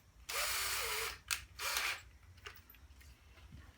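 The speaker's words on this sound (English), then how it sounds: "I got my drill." A power drill whines loudly into pine wood in a sustained burst, stops, then gives a short second burst, followed by quiet handling noises.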